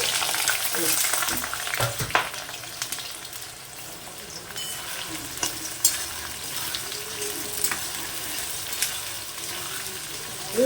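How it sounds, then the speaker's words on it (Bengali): Onions sizzle and fry steadily in hot oil seasoned with cardamom and bay leaf, with occasional stirring clinks; a close, continuous crackle for a chicken leg dish. "ভালো করে পেঁয়াজটাকে আগে ভেজে নেব"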